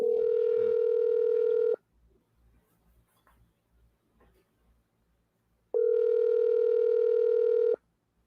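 A telephone ringback tone sounds twice while a call goes out, each long steady electronic burn lasting about two seconds, separated by a quiet pause with faint low murmuring.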